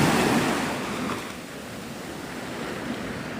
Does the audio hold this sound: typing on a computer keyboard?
no